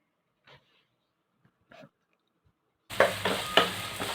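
Onions and tomatoes being sautéed in a pan for paneer kurma, heard after near silence broken by a few faint clicks; a sudden loud sizzle then sets in, with scraping stirs over it.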